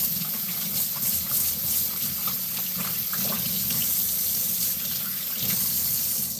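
Water runs steadily from a tap into a sink during hand washing in a kitchen, a continuous close splashing hiss with slight shifts as hands move under the stream, no talking.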